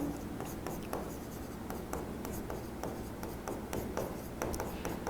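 Pen or marker writing by hand during a biology lesson on cell division, a steady scratchy stroke pattern with repeated short ticks, heard close amid continuous room noise.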